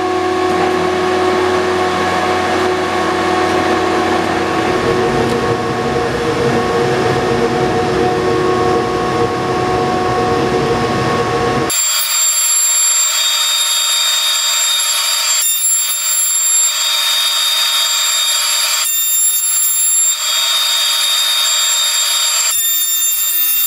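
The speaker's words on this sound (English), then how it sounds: "now we're going to run this through the big planer and plane this down now" A large planer shaves a board down while it rides on a plywood carrier, during a log-to-coffee-table build. A loud, steady machine roar runs for about half the clip, then gives way to a lighter, pulsing whine as the motor runs on.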